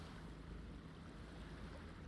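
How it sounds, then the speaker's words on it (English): Soft waves wash against a pier in the video game Yakuza 0, a steady, low, continuous surf noise at a faint level with no voices. "I just love the sound of the waves just shifting in motion and sifting and exclusion."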